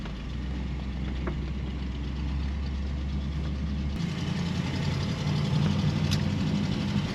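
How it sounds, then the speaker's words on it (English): A 1960 Ford Thunderbird's 352 V8 engine drones steadily while driving, with a low rumble that shifts character partway through, alone with no talking. "we got 1960 Ford Thunderbird, 352 V8, power steering, power brakes"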